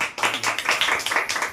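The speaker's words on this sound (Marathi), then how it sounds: "टाळ्या वाजवा, टाळ्या वाजवा सगळे." A group claps their hands in quick, fairly even rhythm at a 36th wedding anniversary celebration, around ten sharp claps in under two seconds, close and lively with no clear speech.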